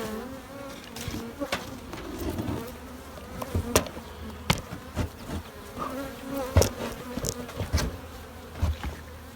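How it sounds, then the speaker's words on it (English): Many honey bees hum and buzz close by around their hives, a dense drone with individual bees zipping loudly past the listener. "The field bees are back, so the hives are a little bit pissy."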